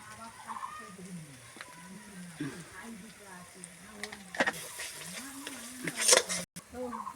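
Turmeric and chili powder spices fry in a pan for a chicken and potato curry, a soft sizzle and stirring heard under steady speech.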